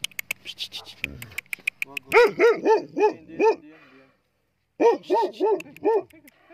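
A dog barks in two quick bursts of several sharp, close barks each, with a short silent gap between them and some clattering before.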